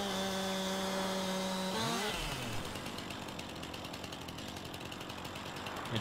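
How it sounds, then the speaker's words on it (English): A chainsaw cuts logs on steep logging ground in Farming Simulator 19. A steady tonal engine drone slides in pitch, then gives way to loud, continuous rasping cutting noise that holds for several seconds. "I knew we'd probably have to use a chainsaw in some areas because it's just so steep."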